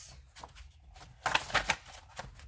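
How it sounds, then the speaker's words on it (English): Oracle message cards shuffled by hand in soft, uneven riffling bursts, close and quiet with a louder flurry partway through. "I'm just going to shuffle"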